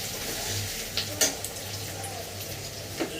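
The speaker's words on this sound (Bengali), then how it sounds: "এখন আমরা মেখে রাখা চিকেনটাকে ছেড়ে দেব।" Marinated chicken goes into a pan of fried spice paste, giving a low, steady sizzle with a few brief utensil clacks.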